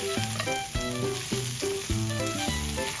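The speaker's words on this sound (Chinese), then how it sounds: "把鸭块加进去" Duck pieces frying in hot oil with scallion and ginger, a steady loud sizzle with background music playing.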